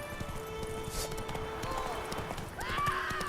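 Horse hooves clip-clopping at a gallop during mounted combat in The Witcher 3: Wild Hunt, a steady rhythmic patter under game sounds and a spoken voice.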